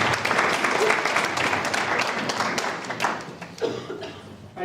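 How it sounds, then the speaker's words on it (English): A crowd claps for an artist at a printmaking talk, a sustained wash of applause that tapers off with a few lingering claps near the end, heard on its own without speech. "We can give her a round of applause."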